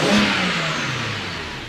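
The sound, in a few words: BMW E90 335i N54 engine revving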